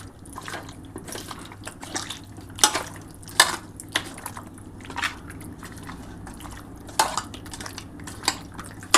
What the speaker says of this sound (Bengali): খুব ভালো করে টক দই দিয়ে ভালো করে মাখিয়ে রেখে দিচ্ছি